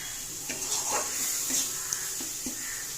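Masala sautés in a small amount of oil in a pan, a gentle, continuous sizzle broken by several soft scraping stirs, close and fairly quiet with no talking.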